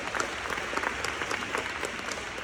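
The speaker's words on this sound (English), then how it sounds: "That deserves a round of applause." An audience claps steadily at a Black History program, a dense, even patter of many hands filling the room at moderate loudness with no voices over it.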